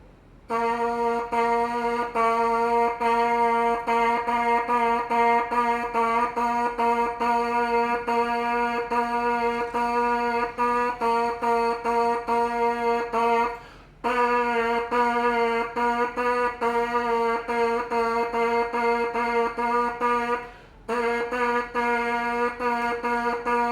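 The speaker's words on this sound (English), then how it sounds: "Now I'm going to buzz through the entire 4 lines of rhythms here." A buzzing, brass-like tone played on a brass mouthpiece alone, repeated in quick rhythmic bursts, pausing twice briefly before resuming the steady pattern.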